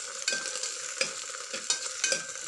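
Ginger garlic paste frying in butter in a pan gives a steady, soft sizzle, with a few brief stirring scrapes rising above it and no voices.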